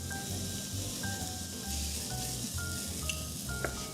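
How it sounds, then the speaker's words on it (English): Pancetta sizzling in a pan with squash and other vegetables, a steady, fairly soft crackling hiss with a low hum beneath it and no talking. "So let that bacon cook."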